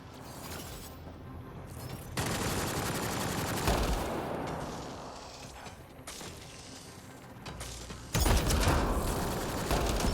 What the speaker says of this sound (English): that was the concussive shot I did